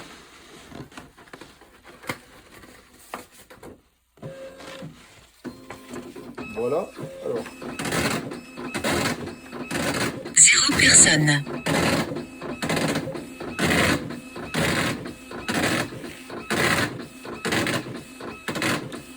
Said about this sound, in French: les imprimantes comme la mienne qui est en braille, il y a des marteaux qui gravent